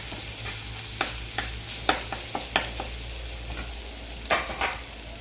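Mustard seeds and cumin with turmeric frying in hot oil for a tempering, a steady low sizzle broken by sharp spattering pops and occasional stirring clinks, close and moderately loud with no talk.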